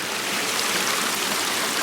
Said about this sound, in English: Really natural looking waterfall through here that cuts around these stepping stones in here